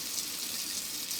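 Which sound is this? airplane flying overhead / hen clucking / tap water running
tap water running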